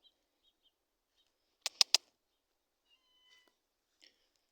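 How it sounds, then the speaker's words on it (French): A little cat gives a quick run of three short, sharp meows close by, breaking an otherwise nearly silent room, followed by a faint chirp a moment later. "Il y a un petit loulou qui miaule"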